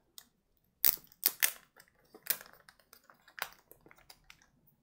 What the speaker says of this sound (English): take the plastic off